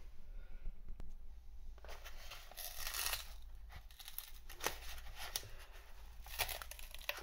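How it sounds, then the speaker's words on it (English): A large Pact coffee envelope is torn open by its tab, giving close, crinkly paper rips and rustles in irregular bursts over a quiet background hum, with no talk. "Pact comes as a large envelope through the post, and it's easy to open"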